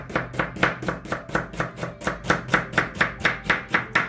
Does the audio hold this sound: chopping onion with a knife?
yes